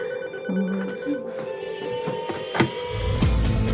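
A telephone rings indoors in a family home, a clear electronic ring repeating over a low hum, fairly close and alone without voices.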